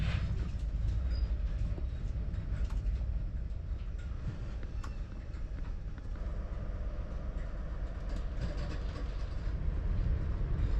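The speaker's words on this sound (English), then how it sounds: "the train has managed to maintain pace" An InterCity HST train runs steadily on rails in heavy rain, a continuous low rumble of wheels with faint rhythmic clicks and rattles heard from inside the carriage.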